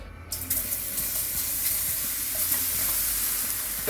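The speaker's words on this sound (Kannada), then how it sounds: "ಪನ್ನೀರ್ ಹಾಕೊಂಡು ಚೆನ್ನಾಗಿ ಫ್ರೈ ಮಾಡ್ಕೋಬೇಕು." Paneer fries in hot oil with turmeric in a pan, giving a steady, loud, close sizzle with a hissing, watery texture and no voices.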